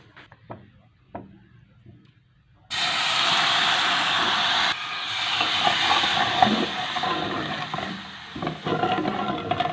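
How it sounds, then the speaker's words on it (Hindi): Water poured into hot, blackened caramelized sugar on a stove while making homemade soy sauce, bursting into a loud, steady steaming hiss and sizzle that cuts in abruptly, then bubbles and crackles on, with no talking. "अब हम इसके अंदर पानी डालेंगे।"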